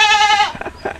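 A goat on a small livestock farm lets out one loud, close, drawn-out bleat that wavers and then breaks off, followed by a few faint scuffs.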